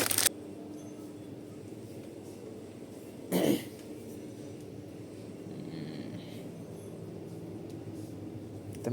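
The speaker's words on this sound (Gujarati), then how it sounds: "એમાં બે ઉધરસ આવી ગઈ સમજો." Two short, sharp coughs, one at the very start and another a few seconds later, each standing out clearly against a low, steady background hum.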